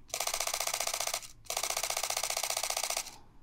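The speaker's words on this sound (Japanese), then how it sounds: "というところでシャッター音を聞いてみました" A Canon EOS R10 mirrorless camera fires its shutter in continuous burst mode, two rapid, evenly spaced runs of crisp mechanical clicks, each lasting over a second, close up with a short pause between them.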